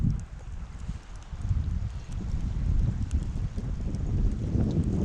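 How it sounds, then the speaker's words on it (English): Blustery wind buffets the microphone outdoors on a hike beside a trout stream, a steady low rumbling roar with gusts swelling louder toward the end, no talking. "Nice blustery day."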